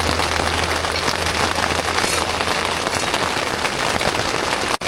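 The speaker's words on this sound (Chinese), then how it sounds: "还在下雨" Rain falls on a camping tent during a wet day near Kangding, a dense, steady hiss of drops close overhead with no voices, ending in a brief click.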